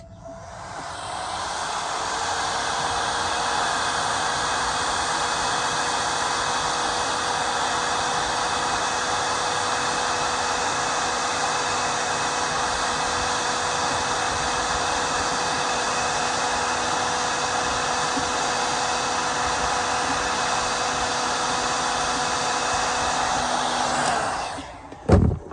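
A heat gun blows steadily on plastic held in a vise, a continuous loud airy hiss with a faint tonal hum that runs unbroken for over twenty seconds before cutting off abruptly.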